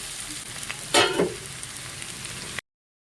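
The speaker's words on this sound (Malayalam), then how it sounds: "ഇനി തക്കാളി ഇടാം." Chopped tomatoes dropped into a pan of frying onions, giving a steady loud sizzle with a sharp burst of hissing as they hit the hot oil, then an even frying crackle until it stops abruptly.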